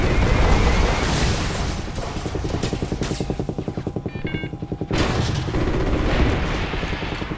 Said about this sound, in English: We're still taking enemy AA fire from behind the smokestacks.